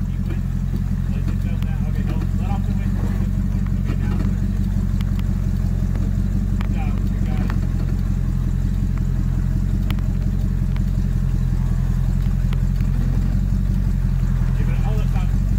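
A car engine hums steadily at low pitch throughout while driving, running beneath nearly continuous talking from people inside the vehicle.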